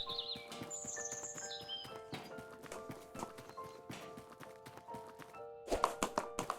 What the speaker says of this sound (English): There's a horse to take care of.